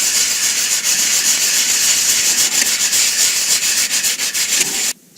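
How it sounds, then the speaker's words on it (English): Rapid back-and-forth hand sanding with 150-grit sandpaper on a composite propeller repair, a loud, close, raspy scratching that continues steadily for several seconds before stopping abruptly. "I'm going to finish the sanding by hand"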